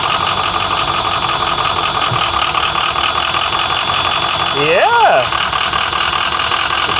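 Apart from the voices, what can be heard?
old diesel bus engine running while shifting into gear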